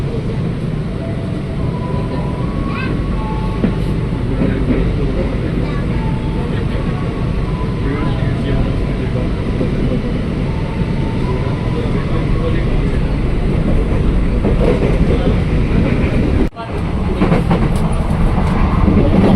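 Steady rumble of a KRL INKA commuter train in motion, heard from inside at the car connection between carriages, with continuous rattling and clatter throughout and one brief dropout near the end.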